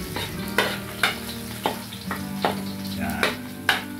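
Garlic frying in a pan while being stirred, with a steady sizzle underneath and repeated sharp clinks and scrapes of a utensil against the pan about every half second. No talking.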